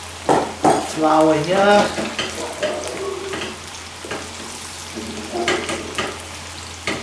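Chicken pieces in batter frying in hot oil in a wok, a steady close sizzle with scraping stirs and utensil clinks, while a voice talks briefly over it.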